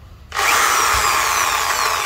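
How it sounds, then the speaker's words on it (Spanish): A cordless drill powered from a portable solar battery whirs up after a short silence and runs steadily at close range, loud and alone. "Vamos a encender aquí, taladro."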